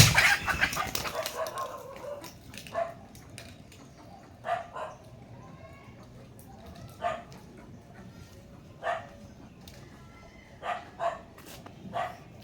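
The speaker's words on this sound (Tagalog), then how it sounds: "Yun yung manok." A rooster crows and chickens cluck in a rural yard, with sharp intermittent calls rising above a quiet outdoor background, separated by pauses of a second or two.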